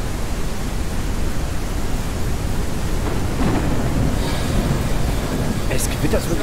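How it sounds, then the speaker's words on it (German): Rain falls in the Ranch Simulator video game in a continuous loud rush, with a low thunder rumble swelling midway and crackles near the end. "Es gewittert wirklich so laut"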